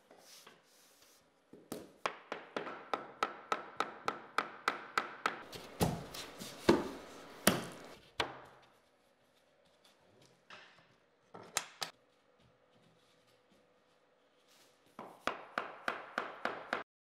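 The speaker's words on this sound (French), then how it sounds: "tu les relies à celles précédentes avec un marteau et une cale à frapper" A hammer strikes a tapping block to join laminate floor planks, producing rapid runs of crisp, evenly spaced knocks in several bursts with short pauses between, close and loud with no talking.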